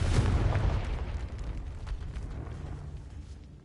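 A Confringo fire spell bursts in Hogwarts Legacy: a loud, heavy blast at the start with a deep booming low end, then a rumbling roar that slowly fades over several seconds.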